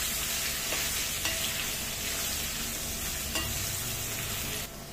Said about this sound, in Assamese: এয়া মই মছলাখিনিৰ লগত আমখিনি ভাজি ল'লোঁ